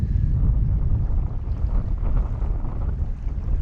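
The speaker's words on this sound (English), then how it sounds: "Quite windy today." Wind blowing across open water on a hot day during a pack raft camping trip, a steady low rumbling buffet that stays close and fairly loud throughout, with no voices.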